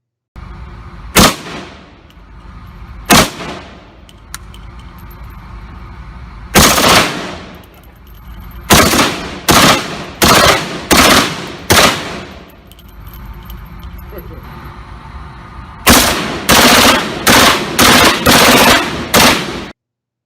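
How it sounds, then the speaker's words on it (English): Bursts of automatic fire from a submachine gun and then an assault rifle: single shots first, then rapid stuttering volleys of several rounds each, loud and close with ringing decay between bursts. "Here is a submachine gun. Here is an assault rifle."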